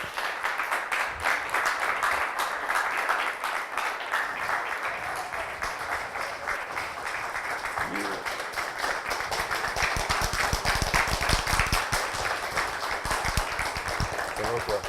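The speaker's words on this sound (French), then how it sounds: "Sous vos applaudissements, bien sûr." Studio audience applauding a guest on a Kinshasa television show, continuous clapping throughout with rhythmic claps building toward the end.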